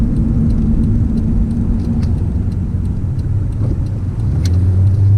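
Nissan Skyline with no catalytic converter and a restrictive mid muffler, its engine and exhaust droning steadily and loudly from inside while driving, with a deep constant rumble and slight shifts in pitch.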